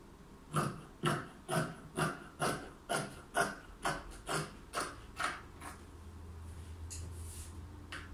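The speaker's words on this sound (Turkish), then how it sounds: "Şimdi astarımı eteğime göre kesiyorum." Scissors cut skirt lining fabric in a steady run of about a dozen crisp snips, roughly two per second. The cuts are close and clear at first and grow fainter toward the end, with no talking.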